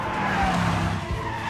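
Tires of a Bugatti Chiron squeal and skid during tire testing at a Michelin test centre, a sustained close tire screech with engine roar beneath it, no voices.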